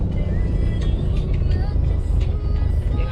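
A bus drives past on a road during a jeep outing in Bali, its steady engine rumble and road noise close and continuous, with people talking over it.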